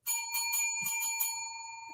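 A small bell rings with a bright metallic strike and a shimmering ring that slowly fades, heard close and alone over about two seconds.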